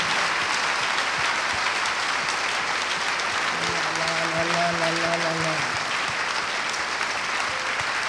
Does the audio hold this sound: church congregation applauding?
yes